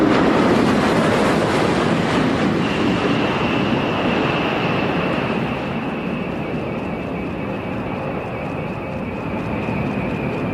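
Space shuttle orbiter rolling out on the runway after main and nose gear touchdown in a crosswind, a steady loud broadband roar and rumble with a faint high whine joining partway through, continuous with no talk.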